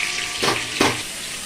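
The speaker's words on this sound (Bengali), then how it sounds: "সেহেতু আর একবার আমি ভাজার জন্য দিয়ে দিয়েছি" Chicken pakora frying in hot oil gives a steady crackling sizzle, loud and close, with two brief surges of bubbling as pieces are stirred or turned.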